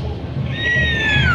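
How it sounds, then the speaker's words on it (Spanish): A horse neighs in an open town plaza in Zacatecas: a single high, wavering whinny rises out of steady crowd murmur and lasts about a second. "¡Relinchó otra vez!"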